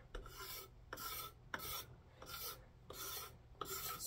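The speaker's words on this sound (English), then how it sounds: "all we're gonna do is just scrape it with a knife" Knife blade scraping the wooden handle of an old handsaw in regular, rhythmic strokes about every half second, each a dry rasping pull heard up close with no speech.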